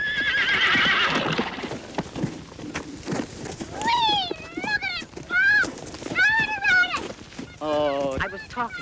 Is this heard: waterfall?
no